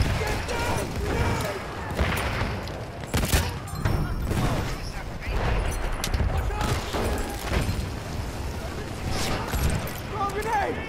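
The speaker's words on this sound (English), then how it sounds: "Oh, you're getting hit by mortars." Mortar shells land in Battlefield 1 during a fight in the Argonne Forest, as a run of booms and crashing blasts mixed with gunfire while players talk over the noise.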